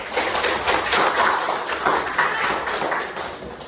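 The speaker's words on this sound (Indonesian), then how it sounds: "tepuk tangan dulu" Children in a classroom clap together, a close, loud burst of rhythmic hand claps that pulses unevenly and tapers slightly toward the end.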